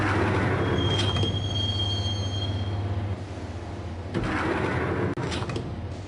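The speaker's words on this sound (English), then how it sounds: "the train doors had already shut behind me, and I was in for the ride" Subway train from the video game Max Payne rumbling along the rails, with a steady low roar, a sustained high wheel squeal early on and brief rattling bursts, loud and close with no voices.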